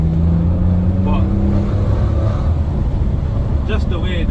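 A Maserati Ghibli S with a 3.0 petrol engine revs in a steady low rumble from inside the car, holding a continuous drone with talk over it.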